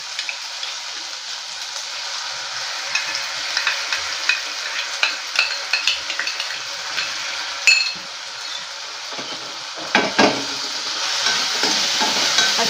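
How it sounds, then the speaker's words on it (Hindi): Ginger garlic paste frying in a pan with tomatoes for a cauliflower and pea curry, a soft steady sizzle broken by clinking scrapes and stirs of a spoon against the pan, close and fairly quiet. "अब हम अदरक लहसुन का पेस्ट डालेंगे"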